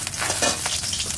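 Black cumin seeds and cumin fry in hot oil in a wok with a brief, close, crackling sizzle that stays steady and loud. No voices are heard.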